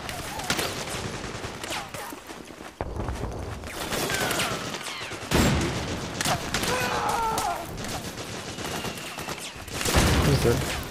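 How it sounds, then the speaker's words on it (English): Dense gunfire from assault rifles and machine guns in the stealth-action video game Metal Gear Solid 4, sustained bursts rattling throughout with a few louder booming hits, mixed with game voices and chatter. "There's bullets flying all over the place."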